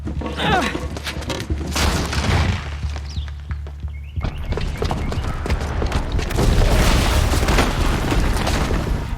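Booby-trapped bomb exploding in the video game Horizon Forbidden West, a loud sustained rumble of booms and debris with a low steady drone, swelling again after a brief dip midway.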